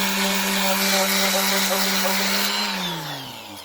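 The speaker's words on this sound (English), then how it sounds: "That's actually stage one, initial rust removal on this head." A power tool grinds rust off the head of a steel rail piece, a steady loud mechanical whine with a falling tone as it spins down near the end.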